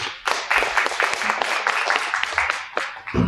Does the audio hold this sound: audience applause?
yes